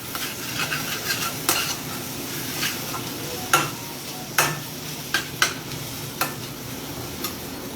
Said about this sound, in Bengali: ডালটাও মাঝে মাঝে নাড়িয়ে নেবেন।